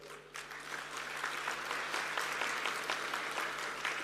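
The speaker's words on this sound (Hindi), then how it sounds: "ये पीछे से ताली ज्यादा जोर से आ रही है" Audience applause at a university gathering fills the room, a dense, steady wash of clapping from many hands that builds slightly and holds loud throughout.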